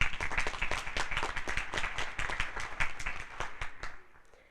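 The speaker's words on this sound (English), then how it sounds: "Let's also just give them a round of applause." A small audience at a city candidate forum gives a round of applause, a burst of close, distinct claps that fades out near the end.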